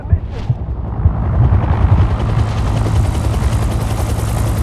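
Helicopter at an air field in Predator Hunting Grounds, a loud, steady rotor roar with a dense rumbling throb that builds slightly and holds throughout.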